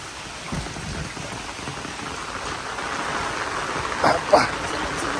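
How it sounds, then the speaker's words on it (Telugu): Heavy rain pours down in a continuous wash of hiss, with a couple of louder splashes near the end and no talking. "ఇదండి వర్షం"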